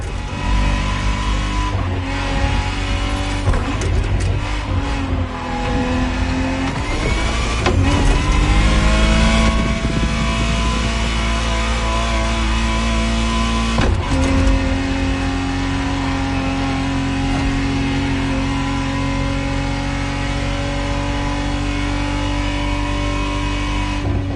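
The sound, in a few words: Ferrari Testarossa 512 TR engine revving in The Crew Motorfest video game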